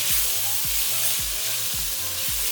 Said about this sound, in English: the chicken will cook faster as well. And that is the whole point of stir frying.